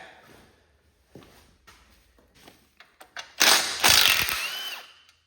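A ratchet removes a 9/16 bolt from a Cub Cadet 1535 garden tractor's standard transmission: scattered metallic clicks and taps, then a loud burst of rapid ratcheting near the end that trails off.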